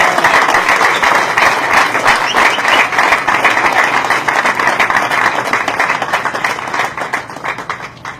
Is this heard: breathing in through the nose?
no